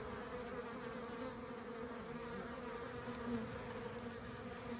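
Honey bees buzz softly around a hive frame, a faint steady hum of many insects close by with a few slightly louder passes near the end.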